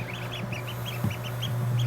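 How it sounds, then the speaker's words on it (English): Newly hatched ducklings in a brooder peep constantly, a rapid series of high, close chirps over a steady low hum. "we had a whole lot more chicks, or I should say ducklings, hatch overnight, and we have quite the brood in here."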